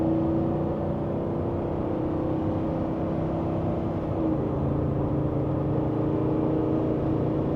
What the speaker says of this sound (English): I wanted to just reset the cruise control and see what the truck would do, getting back up to speed, how aggressive it is.